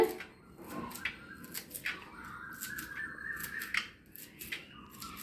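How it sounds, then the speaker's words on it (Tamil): Banana flower being finely chopped for vada, a run of crisp, close knife cuts in an irregular rhythm with short pauses, fairly quiet and with no talking. "நம்ம இந்த மாதிரி பொடியாக கட் பண்ணி எடுத்துக்கலாம்"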